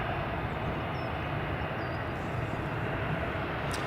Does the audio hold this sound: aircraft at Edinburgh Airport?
yes